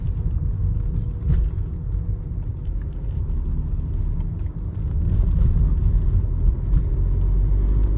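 A 2016 Volkswagen Golf 7 driving through city streets, with a steady low engine and road rumble heard from inside the cabin, growing slightly louder partway through.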